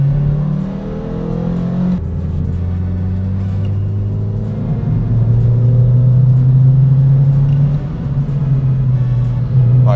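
Renault Twingo RS hatchback on the road, a steady engine drone with a tonal shift as it slows under braking, continuous and fairly close throughout.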